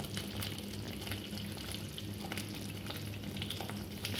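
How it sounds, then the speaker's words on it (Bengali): An onion and tomato masala mixture bubbles and fries in a pan, a soft steady sizzle with small pops and occasional stirring, fairly quiet and close. "পেঁয়াজের মিশ্রণটি এখনো ফুটছে,"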